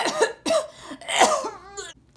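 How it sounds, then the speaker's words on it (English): A person coughs without covering their mouth on a street, three harsh, close coughs in a row followed by a short throat-clearing rasp. "make sure you are not coughing without your mouth covered, like this"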